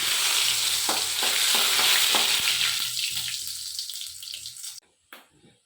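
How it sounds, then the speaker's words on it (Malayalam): Mustard seeds with cinnamon, cloves, cardamom and fennel frying in hot oil give a steady close sizzle with crackling pops and stirring, fading out toward the end. "കടുക് പൊട്ടി ഇനിയിപ്പോൾ പട്ട ഗ്രാമ്പു ഏലക്ക പെരിഞ്ചീരകം അതൊന്ന് മൂക്കട്ടെ"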